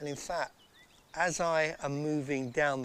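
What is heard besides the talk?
No everyday noises stand out.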